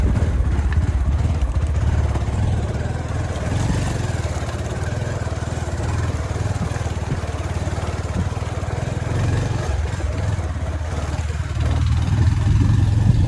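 A motorbike descends a steep trail near a river in Nepal, its engine droning loudly and steadily throughout with no let-up.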